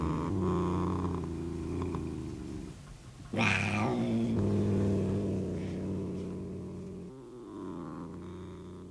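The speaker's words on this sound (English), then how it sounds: "In the gentle, oh so comforting purr of her sleek, fat cat, Saladin." A sleek, fat cat purrs steadily in a BBC radio horror drama, a soft, close, low rumbling that swells briefly louder midway, then settles back to a gentle, continuous drone.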